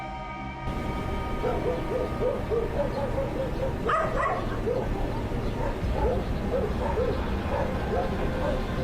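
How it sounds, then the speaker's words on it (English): Dogs bark in short, repeated yaps at a distance over a steady background hiss, with a louder burst of barking partway through. "why were the dogs barking at it"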